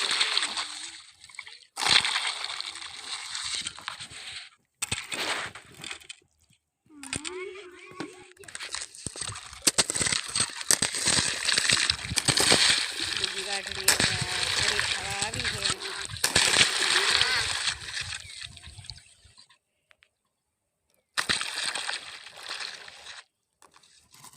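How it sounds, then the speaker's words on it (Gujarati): Irrigation water flows and splashes into furrows in a farm field, a continuous rushing slosh that comes and goes, with people talking over it for much of the time. "પહેલી વાટડીમાં અને બીજી વાટડીમાં પાણી વારી દઈએ"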